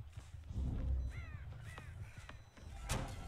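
Crows caw in the video game Dead by Daylight, several harsh calls scattered over a few seconds, fairly faint against a low rumbling game background.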